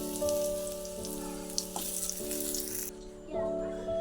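Dried jujubes (kul) with salt and turmeric drop into hot oil for pickle, giving a steady, close hissing sizzle over a sustained tonal hum that eases near the end.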